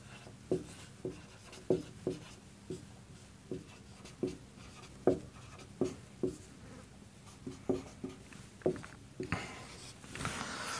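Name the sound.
teacher writing a definition on the board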